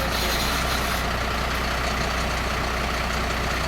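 An idling HGV truck builds up pressure in its air brake system, giving a loud, steady heavy-engine rumble with a hissing, airy layer on top that continues without a break.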